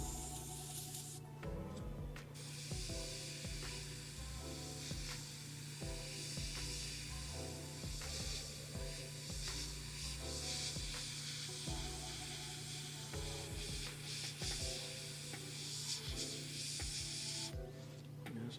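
A Mobius airbrush sprays paint at low pressure in spotty bursts, with a soft hiss starting and stopping alongside small clicks and handling noises close by.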